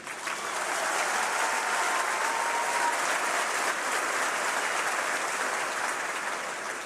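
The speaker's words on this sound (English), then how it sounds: "Please join me in applauding these individuals in the audience today." Sustained audience applause at a high school graduation ceremony, a steady dense clapping from a large crowd that holds evenly for several seconds.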